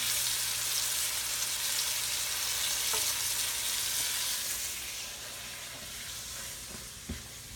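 Chicken pieces browning in a big frying pan make a loud, even hiss of hot fat that eases slightly toward the end, broken by a couple of faint knocks.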